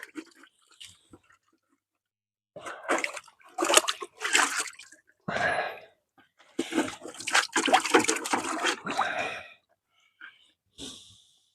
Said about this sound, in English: Let's go ahead and rinse this a little better.